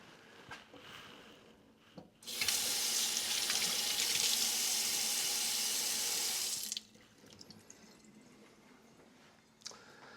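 Tap water gushes into a small kitchen sink for about four seconds, a steady hiss that cuts in and stops abruptly, framed by a quiet room with a few faint clicks.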